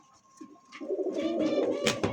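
Pigeons coo nearby in low, throaty, rolling calls that swell and overlap, with a few higher chirps mixed in and no speech.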